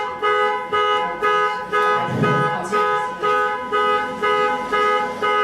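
A car alarm blares in a repeating pulsed pattern, loud and close, with about eight even bursts and a brief rumble midway.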